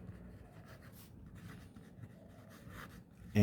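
A pen scratches steadily across paper while an answer for an Exercise 6.1 Class 10 NCERT maths triangles problem is written by hand, a soft, close rubbing with short strokes and no talk, ending in a sudden thump.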